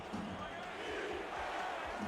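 A stadium crowd at a football game in Charleston roars steadily on its feet, a dense, continuous wash of cheering that holds at a constant level throughout, moderately distant.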